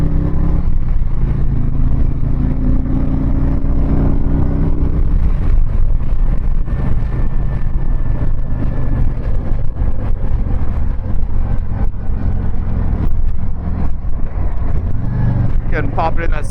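A Harley-Davidson Street Glide cruises in sixth gear at about 70 on a highway: a steady low engine drone under heavy, continuous wind roar, with a brief change near the end.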